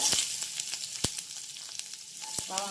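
Garlic and shallots sauté in about a spoonful of oil, crackling in a steady close sizzle with sharp pops and occasional spatula scrapes, no talking.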